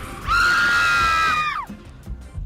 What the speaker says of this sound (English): And now, your sideline scream of the week